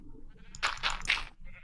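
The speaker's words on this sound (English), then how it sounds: "the sheep are making me nervous as well, because they sound like creepers sometimes when they eat" A Minecraft sheep gives a single wavering bleat of three quick pulses, fairly close and clear over a faint game background, with no talking.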